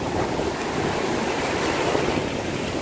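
Ocean surf washing steadily onshore at a calm beach, a continuous broadband rush of breaking waves with some wind noise, no talking.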